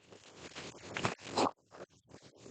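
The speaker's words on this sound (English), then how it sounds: "shuffle one more time" Tarot cards are shuffled close up in a quick run of papery riffles and soft flicks, with a louder burst in the middle before a few lighter, sparser slides and taps, faint and alone.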